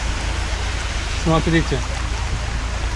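Floodwater rushing in a torrent down a street in Sochi: a loud, continuous roar of flowing water throughout, with a person speaking briefly over it.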